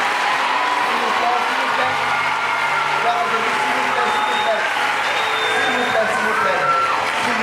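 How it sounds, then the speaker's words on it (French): A church congregation applauds after a sermon about Christ, a dense crowd clapping that runs steadily underneath a voice, which keeps talking throughout. "Je refuse catégoriquement que vous applaudissiez pour moi."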